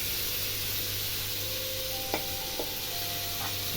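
Pieces of sweet pumpkin sizzling in a frying pan, a steady hiss of frying with a few light utensil clinks partway through, close up and without speech.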